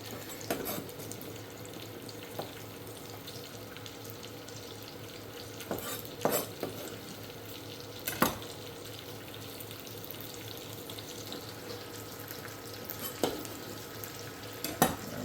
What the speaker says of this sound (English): we'll give this a quick stir